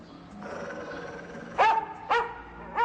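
A dog barks in a film scene, three loud sharp barks spaced about half a second apart, following a stretch of low background sound with no speech.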